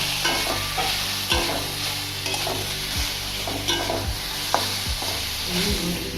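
Turmeric is stirred into a simmering sour green mango chutney in a pan, with a steady bubbling sizzle under repeated scraping spoon strokes and a few soft knocks, close and continuous.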